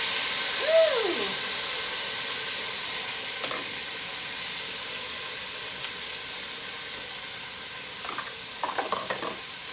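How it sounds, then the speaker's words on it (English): Onion, garlic and tomato drop into hot oil for a lemon-tomato sauce and sizzle with a steady, fairly loud hiss, broken by a few soft stirring taps, with no talk. "my oil's getting hot, so we're gonna go ahead and add the onion and the garlic and the tomato"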